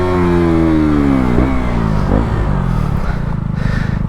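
A 125cc four-stroke motorcycle revs loudly and close up during a wheelie, its engine pitch climbing, dipping and rising again as the throttle is worked on and off, with no voices.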